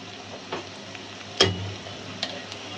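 Ginger and garlic spice paste for a tengra fish curry fries quietly in a pan, a soft steady sizzle broken by a few sharp clinks of stirring.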